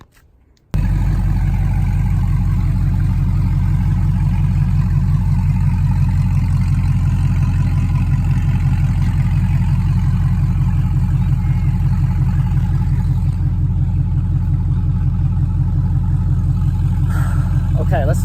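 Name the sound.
MG car engine starting and running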